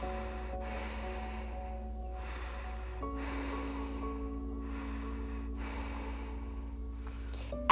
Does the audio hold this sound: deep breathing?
yes